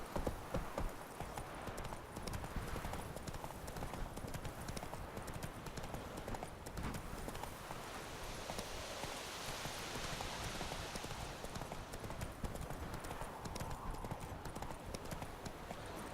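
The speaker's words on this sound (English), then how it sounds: "Hey-ya! Run, Roach." A horse galloping in The Witcher 3, steady rapid hoofbeats pounding throughout over a rainy outdoor background, with a voice briefly heard.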